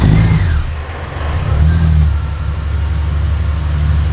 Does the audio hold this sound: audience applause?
no